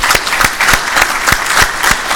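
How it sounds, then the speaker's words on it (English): Loud, dense applause from a panel audience, steady hand claps blending into a continuous wash throughout. "let's have another round of applause for all the panelists"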